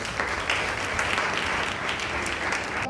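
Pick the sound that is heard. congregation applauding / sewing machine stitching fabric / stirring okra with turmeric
congregation applauding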